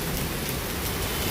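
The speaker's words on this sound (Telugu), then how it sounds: "సో వర్షం పడుతుందండి ఫుల్గా." Heavy rain falls outside near a boutique, a dense, loud, continuous hiss and patter on surfaces with no break and no voices.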